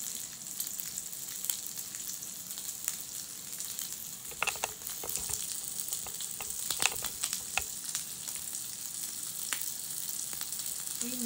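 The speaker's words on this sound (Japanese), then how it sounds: "今ウインナー焼いてます。" Sausages frying in a pan, a steady, close crackling sizzle with frequent sharp spits and pops of spattering fat throughout, no talking.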